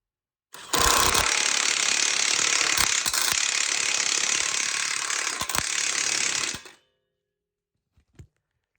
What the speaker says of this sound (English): If you hit that and you hit it with an impact gun, you don't really have to hold the other side.